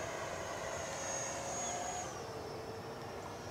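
FMS Futura V2 RC model jet making a fast low pass, a faint, high, whining engine tone that holds steady, then dips slightly in pitch as it goes by against steady background noise.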